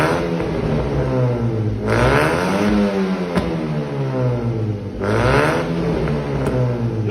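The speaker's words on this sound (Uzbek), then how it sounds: "Gaz berib yuboring." Car engine revving with a remote-controlled exhaust valve, two loud throttle blips that rise and fall in pitch over a steady idle, the exhaust note turning harsher and brighter at each rev.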